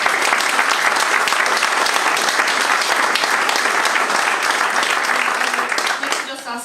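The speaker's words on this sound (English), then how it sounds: "So, big round of applause," A seated audience gives a round of applause for a speaker at a memorial event, a steady, full clapping that stays loud throughout and starts to fade in the final second.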